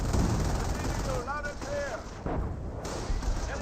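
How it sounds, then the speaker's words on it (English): A Hummel artillery barrage rumbles through a Company of Heroes battle, with heavy booming explosions and scattered gunfire, and a voice commenting over the din. "We do have, of course, a Hummel barrage right there."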